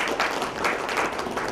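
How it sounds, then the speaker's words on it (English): Audience applause at an IBM-presented smart manufacturing summit as a guest is called to the dais, a dense wash of many hands clapping steadily and fairly loud for a short burst. "Can we have a round of applause?"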